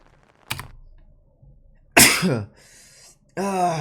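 A loud, abrupt sneeze up close, followed by a second explosive burst, with quieter noises between.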